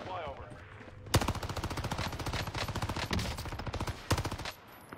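Rapid automatic gunfire from a Call of Duty Warzone match, loud and near, with dense bursts of shots running for several seconds, a brief pause, then another sharp volley before fading.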